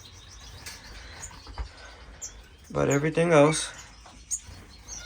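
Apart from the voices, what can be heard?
pet birds chirping and flapping in bird room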